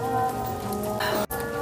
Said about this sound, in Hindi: अभी बारिश बिल्कुल कम हो गई है लेकिन है अभी भी हल्की सी